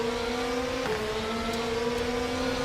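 A race car engine in the Rennsport racing game holds a steady, loud drone with a brief gear-change dip near the start, heard continuously with no talking.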